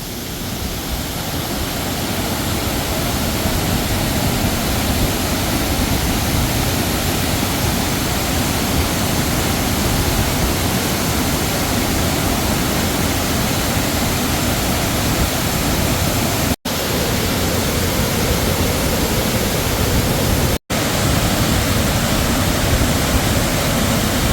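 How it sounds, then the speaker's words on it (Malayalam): A waterfall in Sharavathi wildlife sanctuary, Karnataka, gives a steady, loud, broadband roar of rushing water that holds unbroken for the whole stretch, with no voices. "പോകുമ്പോൾ കണ്ട മറ്റൊരു കിടിലം വാട്ടർഫാൾസ്"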